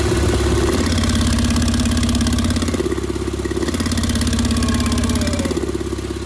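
A Porsche 991.2 Turbo fitted with an ARMYTRIX valved exhaust idles close by, its burbling note stepping up louder and deeper as the valves open, then dropping back as they close, repeating twice over several seconds.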